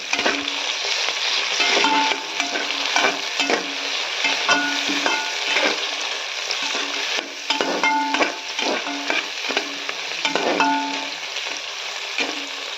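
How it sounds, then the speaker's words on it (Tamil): Tomatoes sautéed with cooked onions in a pan for a vegetable biryani, loud continuous sizzling with repeated rhythmic scrapes of a spatula stirring, close up and without talk. "நெக்ஸ்ட் நம்ம டொமேட்டோ போட்டுக்கலாம். கொஞ்சம் வதக்கிக்கலாம்."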